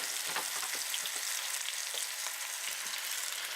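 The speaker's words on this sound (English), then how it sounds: "We're going to grill up this corn, get some grill to it." Corn kernels sizzle and crackle in a hot skillet, a dense continuous frying hiss with faint stirring scrapes, close and fairly quiet, with no talking.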